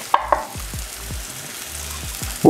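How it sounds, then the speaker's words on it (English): Tomatoes tipped into a pan of sweating onions, a couple of clattering knocks and then a soft, steady sizzle of frying, close by with no talking. "So I sweat my onions. They are beautiful. Gonna add the tomatoes."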